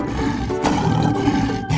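A lion gives one deep, sustained roar, loud and close, filling the short moment with no other sound.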